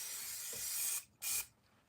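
An aerosol can of spray paint used in an acrylic painting studio hisses in a steady burst, breaks off briefly, then gives a second short spray before fading to quiet.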